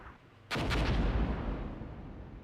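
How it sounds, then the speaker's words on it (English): A single heavy artillery blast in Armored Brigade 2, a sudden loud boom at about half a second that rumbles and slowly decays, with no voices. "how much more artillery do they have coming for us?"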